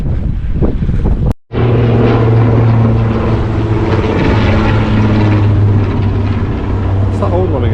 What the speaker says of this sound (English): That was that old army plane again coming back to land.